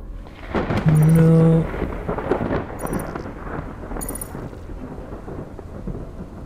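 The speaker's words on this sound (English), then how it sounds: "What's with the thunder?" Thunderstorm ambience in the sci-fi horror game Stasis: a loud, rolling thunder peal over steady rain, then continuing rumbling rain noise with faint electronic beeps, no talking.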